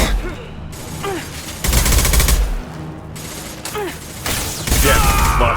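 Rapid automatic gunfire bursts in the video game Mass Effect 2 Legendary Edition, several loud rattling volleys separated by brief pauses, with faint voices in the background.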